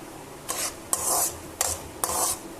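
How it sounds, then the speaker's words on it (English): Mustard seeds are stirred in a pan over a low gas flame, giving four rhythmic scraping strokes of spoon against metal, each a rasping sweep over a faint sizzle, with no talking. "Keep stirring till the mustard seeds start spluttering"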